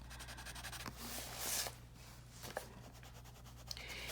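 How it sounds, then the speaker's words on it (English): A colored pencil scratches over a coloring-book page in soft, faint strokes, with a brief firmer rub partway through and no talk. "My pencils are very scratchy today."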